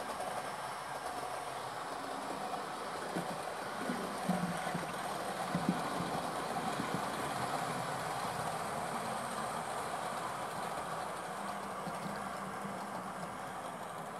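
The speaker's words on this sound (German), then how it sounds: "Und zu guter Letzt auf Gleis 2 läuft unser ICE 2 ein." An ICE 2 train pulls into track 2 of a station, a steady rumbling roll with faint rail clatter and a soft whine, heard from the platform without speech.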